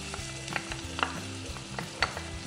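Chopped onion fries in hot coconut oil with a steady sizzle. A spatula scrapes and taps the pan in rhythmic strokes about twice a second, with no voices.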